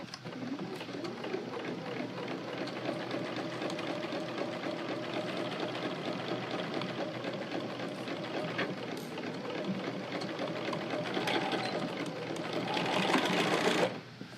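A sewing machine runs steadily, its needle rattling in a fast continuous rhythm while stitching quilt block seams, close and fairly quiet, briefly louder near the end.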